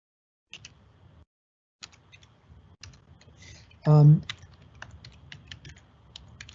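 Typing a login on a computer keyboard: a run of close, crisp keystrokes at an uneven pace, with a brief tonal beep or voiced sound cutting in midway.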